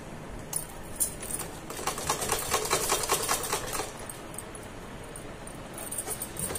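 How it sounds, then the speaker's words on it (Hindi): A sewing machine stitching folded baby frock fabric runs in a continuous rapid rattle that swells in the middle and eases toward the end, close and clear with no talk. "और पहले इसको सिलाई कर लेंगे"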